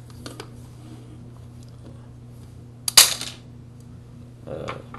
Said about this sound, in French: Les missiles tirent en passant.